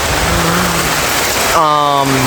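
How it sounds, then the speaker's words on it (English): Heavy rain pours down outdoors on a canopy set up over a cooking area, a loud, unbroken hiss with someone speaking over it. "It's raining pretty bad."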